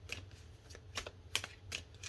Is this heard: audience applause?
no